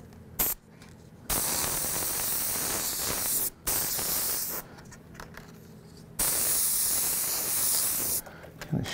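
An airbrush sprays paint in freehand fire artwork, making close hissing bursts of varying length separated by brief pauses.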